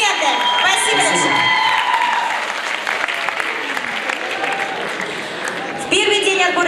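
A talent-show audience at the Minuta Slavy qualifying round applauds a semifinal contestant, loud sustained clapping with music and cheering underneath, swelling again at the close.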